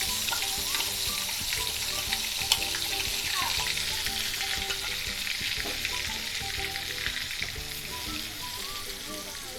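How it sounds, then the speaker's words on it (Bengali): Ginger, garlic and onion paste fries in oil left from frying koi fish, a loud, dense, steady crackling sizzle close by, with faint clinks of stirring throughout and no voices. "এবার খুব ভালোভাবে মশলাগুলো ভেজে নিতে হবে যাতে পেঁয়াজ রসুনের কাঁচা গন্ধটা না থাকে"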